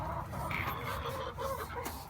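Chickens in a coop decorated with a small Christmas tree strung with cranberries and apples, giving soft, steady clucking and low murmuring throughout, close and continuous with no talk.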